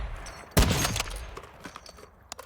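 A sharp, loud gunshot from a video-game sniper rifle cracks out near the start and rings down, followed by a quieter trailing report and faint clicks.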